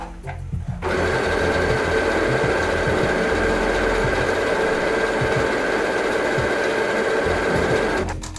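A domestic sewing machine stitching a decorative pattern, its steady mechanical whir and rapid needle clatter running continuously for several seconds, close and loud, starting and stopping abruptly.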